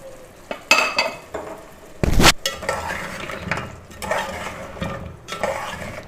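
Potatoes and dried lentil wadiyan being fried in masala in a pot, stirred with a utensil: steady sizzle with repeated scraping and clinks of the spoon against metal, one loud scrape partway through, no voices.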